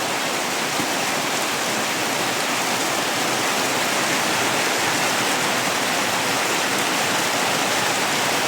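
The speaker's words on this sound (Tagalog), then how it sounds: "Grabe yung lakas ng ulan" Heavy rain pours down in a dense, steady roar with no breaks, loud and close throughout.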